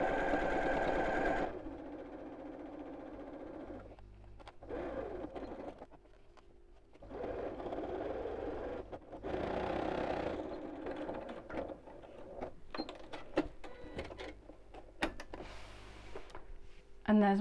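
A domestic sewing machine stitches around the flap of a fabric purse, running in several steady mechanical bursts with brief pauses between them, close and clear, while someone talks over parts of it.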